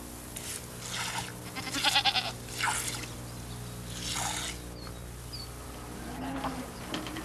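Goats kept by a household bleat in several distinct bursts over a steady, dense hum of buzzing insects, with no voices.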